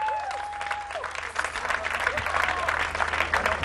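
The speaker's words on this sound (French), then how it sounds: "On les applaudit." An audience at a gospel group qualifying contest in Kinshasa applauds steadily and fairly close, a dense wash of clapping with crowd noise, lasting the whole stretch.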